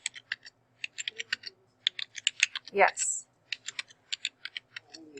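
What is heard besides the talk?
typing on a computer keyboard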